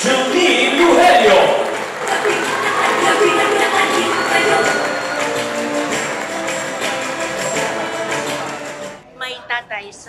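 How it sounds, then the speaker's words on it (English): A large audience claps and cheers for a new Aliw Awards Hall of Fame honoree, a dense, loud, sustained ovation across the room that tapers off near the end as a voice begins. "another big round of applause for our new Aliw Hall of Fame awardee"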